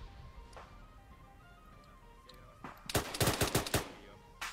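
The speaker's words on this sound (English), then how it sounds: "That sounds like one of them's in that 50 cal" Heavy .50 cal machine gun in Arma 3 fires a burst of rapid, loud, sharp reports late in the clip, preceded by quieter scattered distant shots and ambient game noise.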